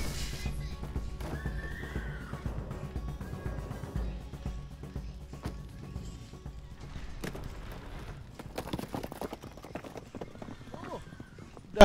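In the video game Unravel Two, during a wildfire, horses whinny repeatedly over hoofbeats, with voices talking underneath and scattered clatter, moderately quiet and continuous.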